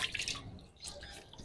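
Water dripping and splashing in short irregular bursts during wudu ablution washing, close and fairly quiet, with brief pauses between the trickles.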